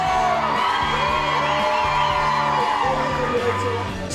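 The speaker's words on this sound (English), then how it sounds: "There's hundreds of people. They're screaming, they're going mad for him." A large crowd of fans screams and cheers for a singer at a public appearance in Bordeaux, a loud continuous wash of whoops and shrill yells with rhythmic chanting underneath.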